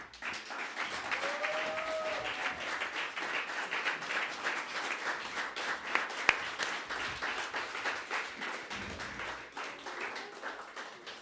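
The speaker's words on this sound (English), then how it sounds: "Give Junior another round of applause" An audience applauds speaker Junior at a New York Pride Month event celebrating LGBTQ rights, with a steady, sustained round of clapping from many hands that continues alone for several seconds.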